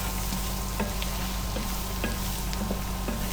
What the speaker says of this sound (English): you want to add about 2 tablespoons of flour and then mix that in for about a minute